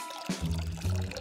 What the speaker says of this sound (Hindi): ओह, मुझे इसे पानी देना होगा।